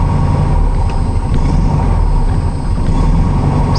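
Air-cooled 36 horsepower engine of a 1960 Volkswagen Beetle running steadily nearby, a loud continuous low rumble with a dense, even texture throughout.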